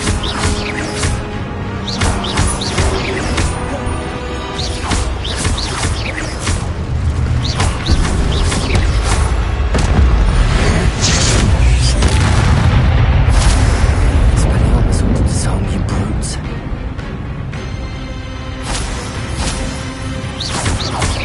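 Incendio fire spells blast again and again in the video game Hogwarts Legacy on PS5, a loud, continuous roaring and booming barrage of fiery explosions that swells in the middle and never lets up.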